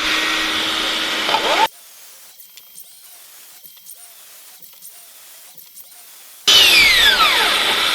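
A copy of a Starmix dust extractor vacuum runs at its minimum power setting, giving a steady whine that stops abruptly partway through, leaving near quiet with faint clicks, before loud noise returns at the end.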